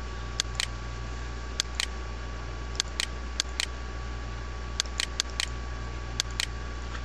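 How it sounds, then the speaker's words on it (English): Computer keyboard keys clicking in short, sharp bursts of two or three taps, spaced unevenly over a steady low electrical hum, with no talking. "You should now also hear the keyboard clicking again."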